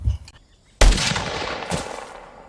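A single sharp gunshot cracks out loud and close, fired at a prisoner, followed by a decaying echo and a second fainter burst.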